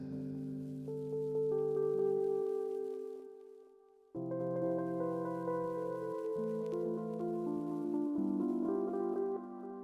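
Synth or instrument notes pass through a stereo delay with an uneven left-right output mix, so repeating echoed tones stack and trail into one another. The sound thins out, then restarts with a denser, sustained cluster of repeats.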